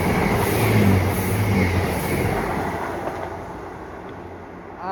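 Class 65038 train passing at Denham near the golf club, a loud broad rumble with low tonal engine hum that peaks early and slowly fades as it moves away, no talking.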